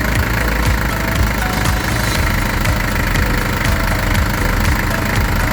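An engine runs after injection pump adjustment, a loud, steady idle with a rapid rhythmic knock and vibration holding constant throughout, close up with no voices.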